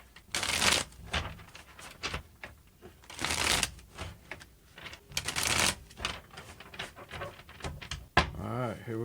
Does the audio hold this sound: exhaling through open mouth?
no